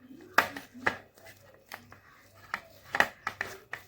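A spoon clinks and scrapes against a bowl in irregular bursts while coriander, chili flakes and oregano are mixed together for homemade garlic bread, with soft kitchen handling noises between the louder taps.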